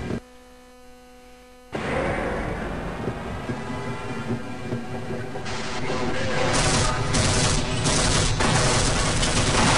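Dense, continuous gunfire from the Half-Life video game erupts after a quieter opening hum and keeps building into a loud, chaotic barrage, with train-like rumble underneath.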